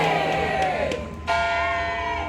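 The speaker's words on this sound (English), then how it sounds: "The bell toll is appropriate." A church bell tolls near City Hall Park during a street protest, two resonant ringing strikes about a second apart, each decaying slowly over the crowd's murmur.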